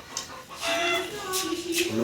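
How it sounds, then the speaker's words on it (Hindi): A domestic hen clucking nearby, a series of short throaty clucks and squawks rising and falling irregularly, with faint household background and some voices. "मुर्गी को क्या हुआ है? कुछ भी नहीं, चूचू करी जा रही है।"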